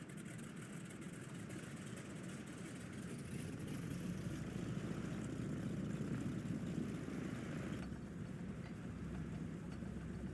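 A propeller aircraft taxiing out on a memorial flight, its engine a steady, droning hum close by that swells slightly and holds constant for the whole stretch, with no talk over it.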